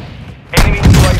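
A heavy airstrike explosion in Call of Duty Warzone 2 on Ashika Island hits suddenly after a quiet moment, a loud booming blast followed by a rumbling tail.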